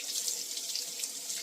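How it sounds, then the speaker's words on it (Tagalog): Tap water runs steadily into a sink while food is washed, a continuous close hiss and splash with no talk. "Running water."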